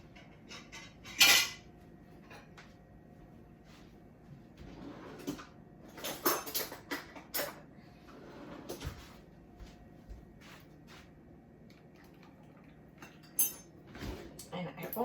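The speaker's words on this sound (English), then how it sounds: "And I'm going to get myself a tablespoon to start mixing." A tablespoon knocks and scrapes against a bowl while pancake batter and butter are mixed, giving scattered clinks and clatters over roughly fifteen seconds, with a louder clank near the start and a busy burst in the middle, close by in a kitchen.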